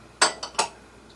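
A spoon stirring pumpkin soup in a pot, three quick metallic clinks and scrapes close by, alone in a quiet room.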